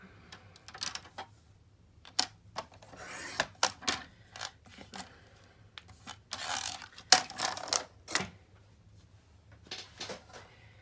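Crisp snipping and rustling of paper being trimmed with scissors, a series of short irregular bursts close by, with quiet pauses between them.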